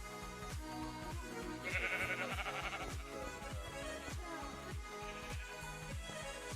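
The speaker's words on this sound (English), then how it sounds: "It's the sheep." Sheep bleating in Minecraft, a brief bleat rising over constant music with a steady beat and busy game sounds; no talking is heard.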